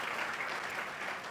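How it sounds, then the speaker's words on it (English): An audience applauds at a university inaugural lecture, a dense, even wash of clapping from many hands that holds steady throughout. "Can we have a round of applause to that"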